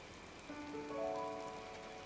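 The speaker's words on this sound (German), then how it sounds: "der Regen ist irgendwie schön" Steady soft rain falls in the video game Disney Dreamlight Valley, a faint, even patter under a gentle rising chime with no voices.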